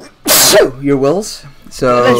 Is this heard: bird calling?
no